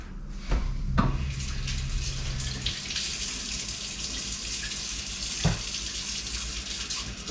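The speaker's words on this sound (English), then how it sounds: "I just have to wash my hands a bit" A tap runs steadily into a sink while hands are washed in a kitchen after handling sausage meat, an even close water hiss with a few brief splashes and knocks.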